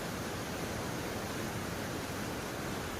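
A mountain stream at Wawa Dam rushes in a dense, even roar of flowing water, continuous and fairly close, with no voices over it.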